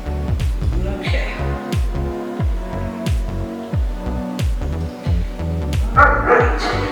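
A large German Shepherd barks outside in a long, insistent series of deep barks, closely spaced and loud, with occasional higher yelps and little pause between them.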